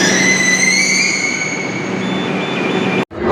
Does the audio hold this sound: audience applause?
no